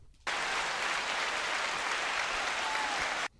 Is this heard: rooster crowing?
no